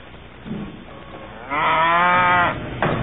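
A dairy cow on a farm milking 100 cows gives one long, loud, close moo of about a second, then a brief second call begins, over a quiet barn background.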